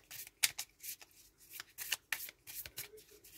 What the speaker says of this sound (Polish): Zobaczmy jeszcze karty wyroczni miłosnej.